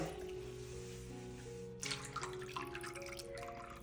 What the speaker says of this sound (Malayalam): കുറച്ച് വെള്ളം ഒഴിച്ചിട്ട് ഒന്ന് കുതിർക്കാൻ വേണ്ടി വെക്കണം